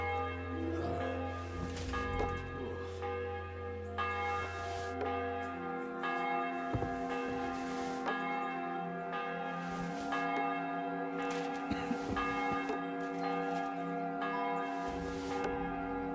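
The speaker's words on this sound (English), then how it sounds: "The bell's ringing for Hans the 5th time." A church bell in the medieval video game Kingdom Come: Deliverance II rings repeatedly at a slow, steady pace, each strike leaving a long, layered metallic hum that carries over the next stroke.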